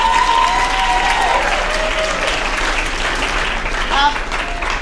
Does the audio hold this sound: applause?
yes